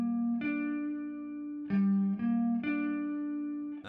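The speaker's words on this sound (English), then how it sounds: "and the minor triad is here" Electric guitar with effects sounding a minor triad in a CAGED-system shape, three separate notes plucked one after another, each ringing and sustained with a smooth processed tone, close and clear with no talking.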